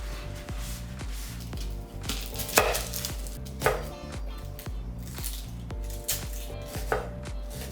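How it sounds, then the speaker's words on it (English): Garden cucumber, lettuce, tomato and red onion are chopped on a board with a knife, a regular run of close, crisp blade strikes with a few louder thuds among them. "For that, I finely chopped up a cucumber."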